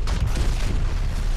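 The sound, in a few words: explosions in the video game BlackSite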